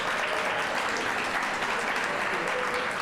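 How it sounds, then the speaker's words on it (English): Steady applause from a crowd at a swimming club banquet, dense clapping sustained throughout at an even level, with faint voices mixed underneath. "round of applause for Coach Monique."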